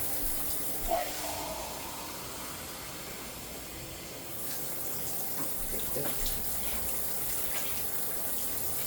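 Water pours steadily into a cooking pot for rice and gandules soup, a soft continuous splashing stream heard close up at low volume.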